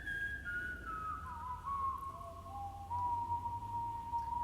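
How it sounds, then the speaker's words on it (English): A lone human whistle carries a slow, gliding melody alone and softly at the close of a song, drifting between held notes over a faint low background. "all you hear is this whistling, which really adds on to that mono effect"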